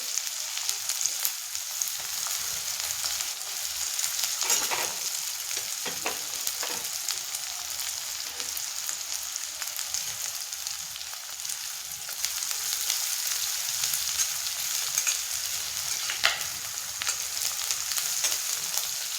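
Onion fries with cumin in a pan for a spiny gourd vegetable dish. It gives a continuous, even crackling sizzle throughout, with occasional scraping taps of stirring close by.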